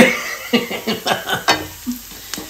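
Sugar is stirred with garlic and onion in a frying pan, a soft sizzle under repeated scraping strokes of the spoon, about six rhythmic stirs close by with no talking.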